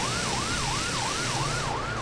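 A fire engine's wailing siren in the Driver San Francisco video game rises and falls in a fast, regular cycle, loud and close over engine and road noise, with no talking.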